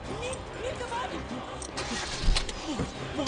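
A jeep engine cranks and catches during a tense horror-film escape, the starting noise rising under a tangle of scrappy background sounds and brief hurried voices.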